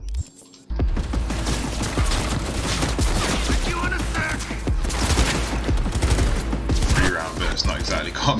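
Assault rifle fire in the video game Cyberpunk 2077 rattles in dense, sustained bursts with crashing impacts, loud and close after a brief quiet opening, while a person speaks over the shooting.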